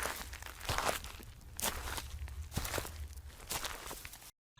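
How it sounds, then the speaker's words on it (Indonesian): Footsteps used as a sound effect in a horror story about a haunted cheap boarding house in Jogja, heard as a series of crunchy steps with rustling texture, fairly close and alone, with a few louder footfalls spaced through. "tiba-tiba dia mendengar suara langkah kaki"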